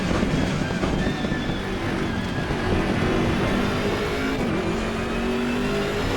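BMW M6 GT3 race car engine in Assetto Corsa Competizione at Mount Panorama, a steady loud drone with rising and falling engine tones throughout.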